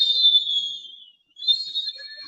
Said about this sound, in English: And that's the half-time whistle.